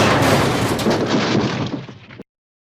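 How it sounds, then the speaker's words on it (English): Train coaches crashing hard into the buffers of a carriage siding in a Trainz simulation, heard as a loud, dense bang followed by a sustained splintering crunch that fades slightly before cutting off abruptly. "there was a bang, and then a splintering crunch."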